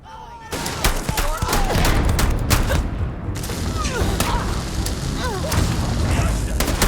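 Heavy gunfire during a firefight in the space game Starfield, sustained volleys of sharp shots and booms, loud and close, with voices shouting amid the combat.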